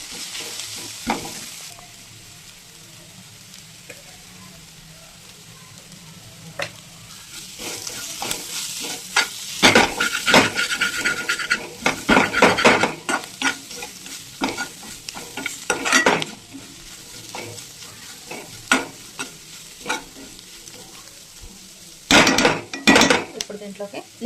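Liver cooking in a pan: a steady low sizzle runs throughout while a utensil stirs and scrapes, with sharp clinks against the pan's metal rim coming in irregular bursts, close and fairly loud.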